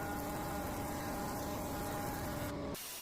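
A thickness planer running on pallet wood for a garden greenhouse, a steady loud mechanical whine with a broadband hiss and a tonal hum, holding constant until it cuts off abruptly near the end.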